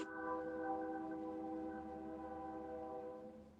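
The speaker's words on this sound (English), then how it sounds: "The train going by." A train sounds a sustained multi-tone horn chord at a distance as it passes, holding steady for several seconds over a low rumble before fading slightly toward the end.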